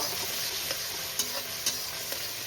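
Crushed garlic frying in oil in a pan, a loud, constant close sizzle with a few faint spoon taps over it, no voices.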